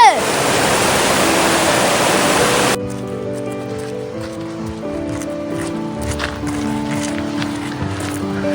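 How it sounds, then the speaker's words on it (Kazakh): The Sarkan river near Koitas rushes loudly and steadily as dense, close water noise for a few seconds, then music takes over. "Шөлін қандырып атқан Сарқан өзені."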